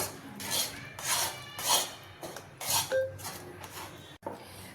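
A utensil scrapes and rasps repeatedly against a pan in a steady back-and-forth rhythm, stirring an Oreo biscuit ice cream mixture off the heat to cool, close and fairly quiet, with an occasional clink.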